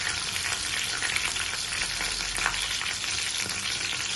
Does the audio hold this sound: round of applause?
no